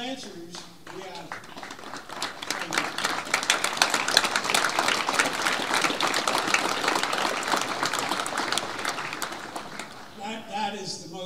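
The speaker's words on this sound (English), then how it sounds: "That is the most well-deserved applause of the evening" An audience applauds a drum corps at an evening concert event, with sustained dense clapping that swells and fades, and a voice speaking at the start and end.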